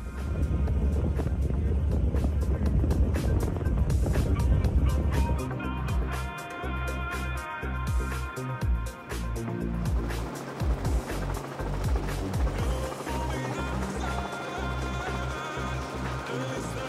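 Racing powerboats with Mercury Racing 540 engines on the Intracoastal during a Miami poker run, loaded with passengers, luggage and fuel, give a steady loud engine drone mixed with wind buffeting and water rush throughout.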